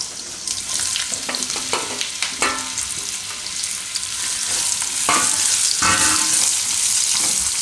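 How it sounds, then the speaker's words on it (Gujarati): Raw bananas frying in hot oil with cumin seeds: a loud, close, steady sizzle with bursts of crackling and scraping from stirring in the pan. "તો આમાં આપણે હવે આ કેળા નાખી દેવું કાચા."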